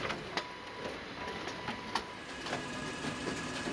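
System AF2000S bookletmaker with stitching heads and front edge trimmer running, a steady mechanical whir with regular soft ticks and clacks, moderately close.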